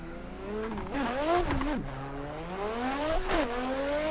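Nissan R35 GT-R drift car on track at an ESDA event, engine revving hard with rising and falling pitch sweeps through gear changes, loud and fairly close throughout.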